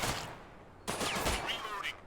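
Gunfire from weapons in the zombie shooter The Last Haven, a burst of shots cracking through a busy game mix after a quieter start, with a brief voice in the background.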